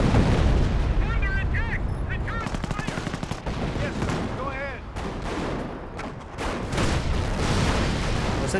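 Artillery barrage and gunfire in Company of Heroes, a dense, loud run of blasts and rapid bursts layered with battle noise, with a voice talking over part of it.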